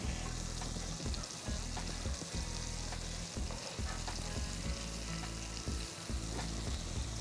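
Pork shoulder sizzles steadily in a preheated pan already holding cooked vegetables, a loud continuous frying hiss broken by a few short stirring clatters and scrapes.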